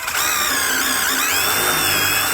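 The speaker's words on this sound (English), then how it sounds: "we drill on through" A power drill bores an angled pocket hole with a Kreg jig while window ledges are installed, a loud continuous whine with a steady pitch that shifts slightly as the bit cuts through.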